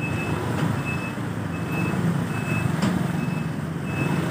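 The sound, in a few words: truck reversing beeps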